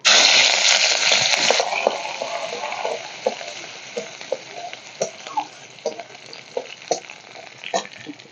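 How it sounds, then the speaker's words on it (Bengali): Grated garlic fries in a pan for paneer bharta. It opens with a loud hissing sizzle that eases over the first two seconds into a quieter fry, broken by regular sharp taps and scrapes of stirring. "সবার প্রথমেই আমি দেব রসুন গ্রেড করা রসুন"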